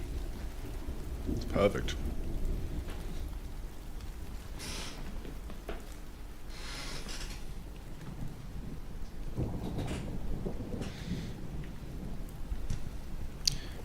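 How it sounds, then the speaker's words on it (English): Game thunderstorm sound effect: steady rain hiss with rolling thunder rumbles swelling around 2, 5, 7 and 10 seconds, moderately loud and continuous, with a brief spoken remark over it. "Dude, I'm loving this thunder noise."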